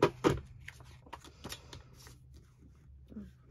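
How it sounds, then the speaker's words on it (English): Paper pieces being trimmed for a mixed media craft project, with soft crisp rustling and cutting sounds, strongest in two quick bursts at the start and then lighter scattered handling, close and fairly quiet. "So I'm going to need to trim these down."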